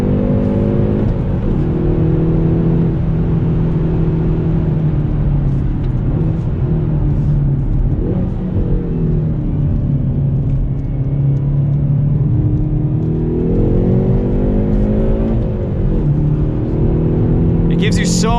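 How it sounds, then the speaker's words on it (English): A 2019 car on a wet race track, either a VW GTI 2.0T DSG or a Hyundai Veloster N Performance Package, accelerates with a steady, loud, close engine drone that rises and falls through gear changes. "there's a ton of torque to pull you out of corners"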